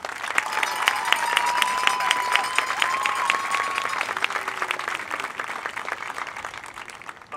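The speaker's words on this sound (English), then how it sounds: "Give them another round of applause." Sustained applause from an audience at a Parents Day camp event, steady clapping continuing for several seconds with a faint crowd murmur and a tonal whistle-like sound in the background.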